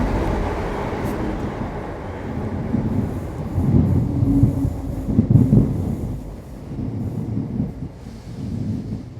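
A train rumbles over the stone railway arches above a London brewery, a steady low clatter of wheels swelling to its loudest midway, with faint wheel squeal, then easing off as it carries on overhead.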